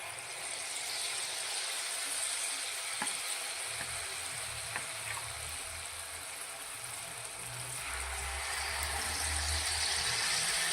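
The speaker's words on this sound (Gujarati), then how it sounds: "તેમાંથી આપણે 1 ચમચા જેટલું ખીરું આ રીતે અંદર રેડીશું અને પૂરી જેટલું શેપ થાય એટલું આપણે અંદર એડ કરીશું" Carrot malpua batter fries in oil in a pan, a soft, even sizzle running throughout with a few faint clicks and a low rumble late on.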